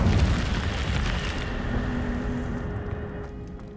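Incendio fire spell cast in Hogwarts Legacy, a loud roaring burst of flame that starts strong and slowly fades away as a long whooshing rumble.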